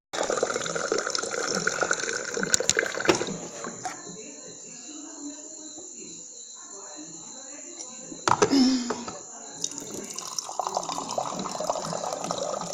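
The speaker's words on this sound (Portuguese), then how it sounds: "Agora eu vou beber um copinho d'água aqui, né?" Water is poured into a small cup. The pour is a light, close trickle among background noise and intermittent voices.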